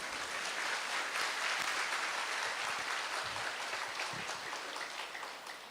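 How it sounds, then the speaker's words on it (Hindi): Hands clapping during a spiritual talk session, a continuous wash of clapping that holds evenly throughout and fades slightly at the end, with no speech over it. "चलो मैं ताली बजाता हूं।"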